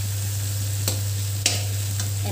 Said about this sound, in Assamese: এনেকৈ কম ফ্লেমত দি ভাজি থাকিব লাগিব